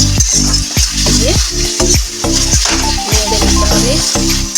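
Fried potatoes for kosha alur dom stirred in a frying pan with a spoon, a continuous loud sizzle broken by repeated scraping strokes and clatters against the pan, no talking.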